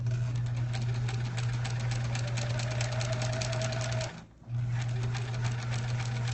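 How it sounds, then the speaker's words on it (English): A sewing machine runs steadily while stitching a tiny paper-pieced quilt block, with a close, continuous whirring hum that briefly stops for a moment near the end before resuming. "all you're doing is stitching exactly on this line. So I'm gonna do that right now. We'll turn that back on."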